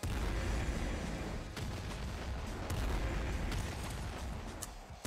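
Rapid weapon fire in the video game Nuclear Throne, a dense continuous barrage of gunshot bursts and booms that stays loud and close throughout, with no talk over it.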